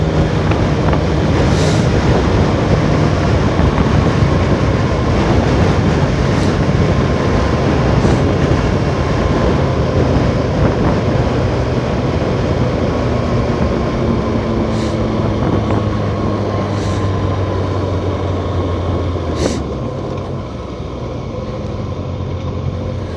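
A Kawasaki Ninja 650 motorcycle cruises in sixth gear at freeway speed near 8,000 RPM, with a steady engine drone buried under heavy wind rush that continues throughout.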